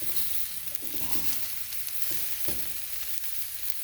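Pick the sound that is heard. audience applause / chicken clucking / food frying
food frying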